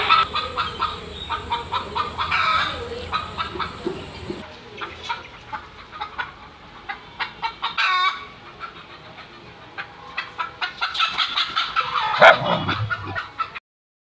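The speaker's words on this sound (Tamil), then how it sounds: "பூனை கத்துன உடனே கோழிகள் கத்த ஆரம்பிச்சிருச்சு" Chickens squawk and cluck in frantic, repeated bursts, fairly close, set off by a cat's cry, with a small dog barking among them near the end.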